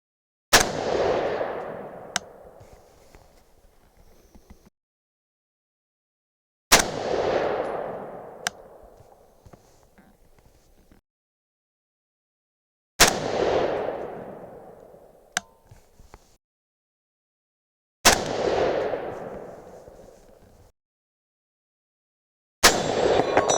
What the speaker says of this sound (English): Okay, 5 more shots, let's make them good ones.